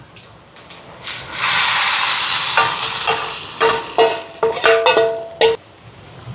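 Onions for a white curry fry in a large pot for flood relief almsgiving cooking; a loud hissing burst gives way to sizzling, with repeated metallic scrapes and clanks of stirring, and no talking.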